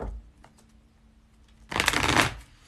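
A deck of tarot cards is shuffled close up, a short burst of riffling cards after a few faint taps and a quiet stretch.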